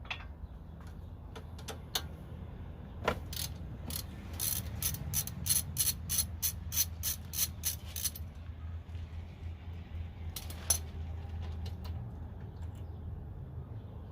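A hand ratchet clicks in a fast, even run while loosening a 12mm bolt on the strut of a 2005 Toyota Prius, then pauses and gives a shorter burst, close and crisp over a low garage hum.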